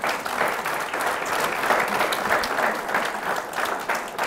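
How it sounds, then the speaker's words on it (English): Wedding guests at a white wedding ceremony in London applaud the groom Michael, a steady wash of hand claps from a full room that keeps up evenly throughout. "I think Michael deserves a hand clap"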